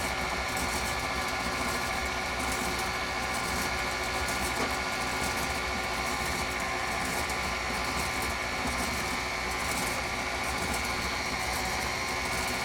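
An electric mixer beats chocolate pound cake batter at low speed, giving a steady, unbroken motor whir with a faint rattle that holds at one level throughout, with no talking.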